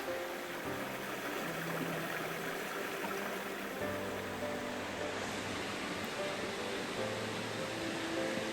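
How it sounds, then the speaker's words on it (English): Backbone Creek, a small mountain stream in the Trinity Alps Wilderness, flowing with a steady, broad rushing wash that stays even and close throughout. "Next thing we come across is this beautiful little stream"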